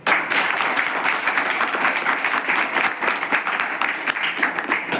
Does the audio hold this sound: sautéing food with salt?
no